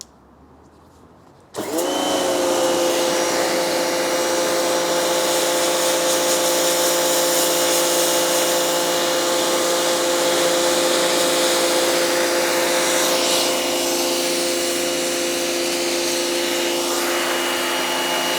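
A Turtle Wax TW135 1800W pressure washer starts up abruptly and runs in a loud, steady, continuous whine and hiss while cleaning paving slabs and blasting weeds, with no talking over it.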